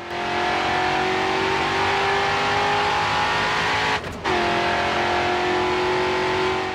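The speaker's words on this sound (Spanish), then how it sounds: "el audio de, los motores mola, está muy bien" Race car engines in the Grid 2 video game drone loudly and continuously at high revs. A brief dip near the middle sounds like a gear change before the engine climbs again.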